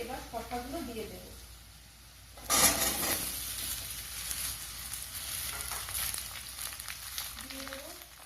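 Cucumber pieces drop into a pan of lightly fried potatoes and erupt into a sharp, loud sizzle that settles into a steady frying hiss. A voice speaks briefly before and after.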